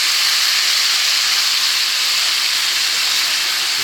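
Stock poured into a hot pan of seasoned pork loin and mushrooms gives a loud, steady, even hiss of steam and sizzle that holds without a break.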